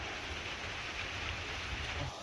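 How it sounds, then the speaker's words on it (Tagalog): Heavy rain at Asik-Asik Falls, a steady broadband hiss of downpour on foliage and surfaces with a low rumble underneath, continuous and fairly quiet, no voices. "Alakas na ng ulan dito."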